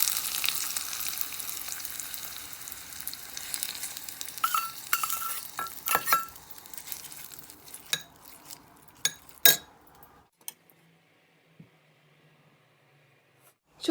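Cumin and curry leaf tempering stirred into onion chutney in a pan, with sizzling and spoon scrapes and clinks against the metal that thin out into sparse taps before fading to near silence.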